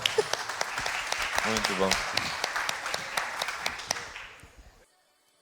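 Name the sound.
audience applause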